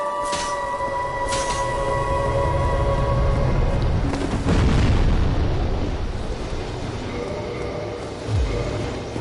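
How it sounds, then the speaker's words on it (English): Black fire bombs exploding in the video game Dark Souls Remastered, loud deep rumbling blasts with a sustained roaring burst midway and a low thud near the end, no talking. "I've had black fire bombs with me this whole time, and I haven't been using them."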